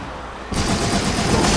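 Rapid gunfire and explosions in a shooter video game erupt suddenly after a short quieter lead-in, then keep going as a dense, loud barrage.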